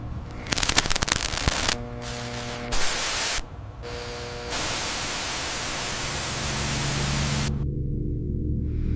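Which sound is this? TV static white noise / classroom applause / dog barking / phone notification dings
TV static white noise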